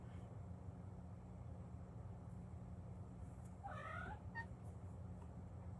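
A cat gives a short, faint meow over a steady low background hum, heard once in the middle of the stretch with no talking.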